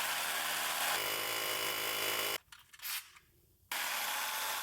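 A drill with a 1/2 inch bit bores through a steel control arm on a 1994 Chevy K1500, a harsh continuous grinding whine that stops briefly midway, sputters, then resumes at full strength.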